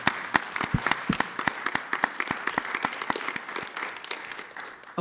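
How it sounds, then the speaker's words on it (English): An audience at a talk on democracy gives a round of applause, a burst of many sharp, close hand claps that thins out and fades over a few seconds. "Yes, let's give Henry a round of applause."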